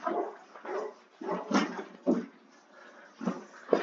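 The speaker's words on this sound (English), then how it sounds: "My dog's kind of being loud." A dog barks and yips repeatedly behind a closed door indoors, with about half a dozen muffled, uneven bursts separated by short quiet gaps.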